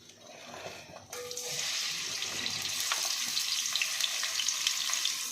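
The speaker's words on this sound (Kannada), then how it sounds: "ಈರುಳ್ಳಿ ಸ್ವಲ್ಪನೇ ಫಸ್ಟ್ ಫ್ರೈ ಮಾಡ್ಕೊಬಿಡೋಣ" Sliced onion hits a little hot oil in a pan. After a brief quiet moment, a bright, steady sizzle starts with small crackles and holds evenly to the end, with no one speaking.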